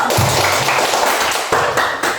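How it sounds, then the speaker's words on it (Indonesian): Classroom applause for a student who answered correctly, a short burst of quick hand claps lasting a couple of seconds, close and fairly loud. "Tepuk tangan untuk Elo."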